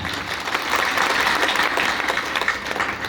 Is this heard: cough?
no